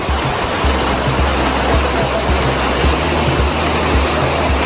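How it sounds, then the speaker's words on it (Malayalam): Small stream in the forest on the Agasthyarkoodam trek, rushing water forming a steady, loud broadband wash with a low churning rumble, continuous and close, no voices. "മുമ്പോട്ട് നടന്നപ്പോൾ കണ്ടോ ഒരു ചെറിയൊരു അരുവി"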